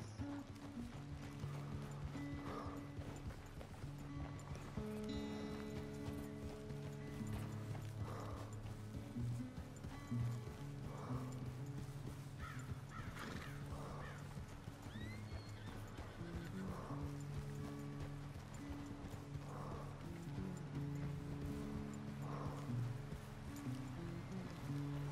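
Horse hooves clip-clop steadily through a ranch-hand ride in Red Dead Redemption 2, the in-game horse whinnying now and then over a continuous low music bed, with the rhythmic hoofbeats near and moderately loud.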